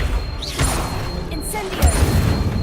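The Accio summoning spell is cast in Hogwarts Legacy, with whooshing magical swishes and a soft thump amid busy game effects and voices.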